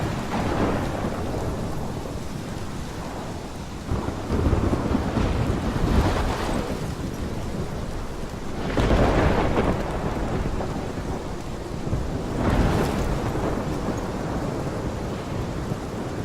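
Thunderstorm in the video game Life is Strange: steady heavy rain and wind roar throughout, with several loud rolling thunder crashes swelling at intervals, no voices.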